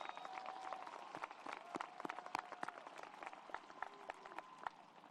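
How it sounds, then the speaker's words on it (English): A crowd at the West High 2023 graduation ceremony applauds in a dense, steady patter of claps that stays faint and distant for several seconds, with a few sharper claps standing out. "Let's give another round of applause to these individuals"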